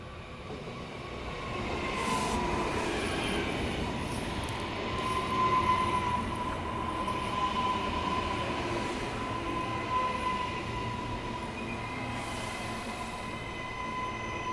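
A Queensland Rail express train pulls into a station platform, a steady loud rumble of wheels and carriages with a sustained high squeal running throughout, no voices.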